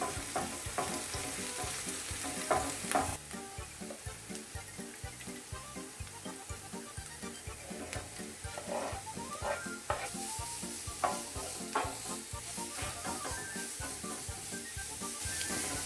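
Vegetables for a ragout sizzle steadily in a hot pan with very little oil while a utensil repeatedly scrapes and stirs through them, close up, with occasional louder clatters.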